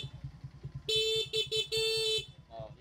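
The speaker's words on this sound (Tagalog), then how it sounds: "Yung busina ko ha." Horn of a Honda RS 125 motorcycle sounding in several short and long bursts over a steady idling engine chug, close and clear.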